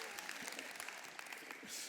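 Audience applause for a volunteer named Nathan, a brief steady patter of clapping from a modest crowd with a few individual sharp claps standing out.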